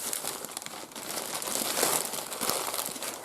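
Cardboard parcel being torn open by hand without scissors, its packaging crinkling and crackling in a steady, close, busy stream of rustles that swells toward the middle.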